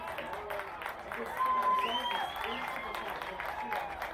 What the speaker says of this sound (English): you hear the Spartans faithful applauding the hard work of the home team